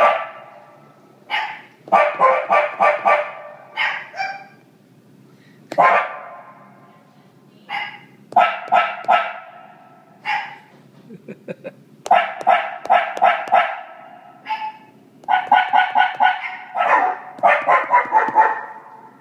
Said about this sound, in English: using GarageBand, I have a sampler here called Bark